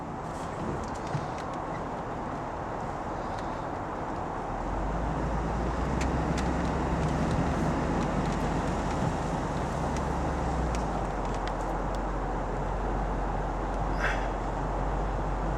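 A Hummer drives home along a wooded track, its low engine rumble steady and close throughout, swelling slightly stronger partway through, with faint wind and occasional birds in the background.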